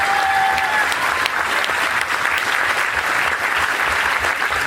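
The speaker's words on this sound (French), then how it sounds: "je vous propose d'applaudir" Sustained applause from an audience at a meeting against police repression and violence, a dense steady clapping that fills the whole stretch with a faint crowd murmur beneath.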